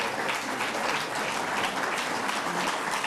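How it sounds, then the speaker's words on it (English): Audience at a Davos open forum on civil society and peace breaks into steady, dense applause of many hands, sustained and fairly loud throughout with no break. "I can see men applauding too."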